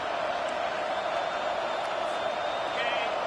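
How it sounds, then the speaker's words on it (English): Stadium crowd at a college football game roaring loudly and continuously, a dense wall of sustained noise near the stands as fans push for a fourth-down stop. "This crowd busting the decibel meter and trying to will a 4th down stop."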